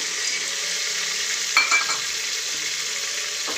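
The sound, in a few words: sautéing masala rice with roasted peanuts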